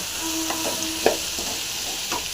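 Radish pieces fry in a pan of cooked-down tomato and masala for a spicy curry, a steady sizzle running beneath several close spoon-stirring scrapes and knocks.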